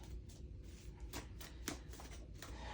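Tarot cards shuffled and drawn by hand, a steady soft riffling rustle with a few sharper card snaps, close and continuous with no talk.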